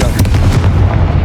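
Blasting spell explosion in Hogwarts Legacy, one loud booming burst that fills the moment with a dense, close rumble and crackle.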